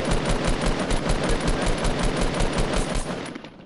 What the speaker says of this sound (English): This other guy's just shooting at me.